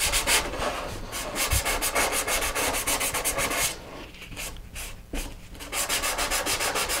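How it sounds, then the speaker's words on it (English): Steady, abrasive rubbing of a sanding pad worked back and forth over a model rocket body tube, continuous and close, with a brief lighter pause near the middle. "And then I just take a sanding pad and I can just sand it down."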